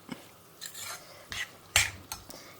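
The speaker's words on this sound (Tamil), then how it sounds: "அது வரைக்கும் நம்ம இதை வதக்க வேண்டிதான்" Spinach greens with onion and tomato being sautéed in a pan, a few soft scraping stirs of a spoon through the leaves, separated by short pauses, quiet and close.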